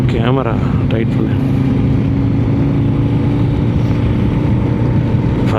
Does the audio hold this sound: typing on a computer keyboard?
no